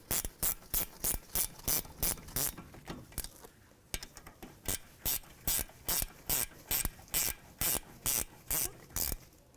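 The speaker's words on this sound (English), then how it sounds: "That's a 14 millimeter. I'll take my ratchet wrench." Ratchet wrench with a 14 millimeter socket working a front brake caliper bolt on a 2010-2015 Lexus RX350: close, loud rapid clicking strokes in even bursts, a brief pause midway, then more rhythmic ratcheting.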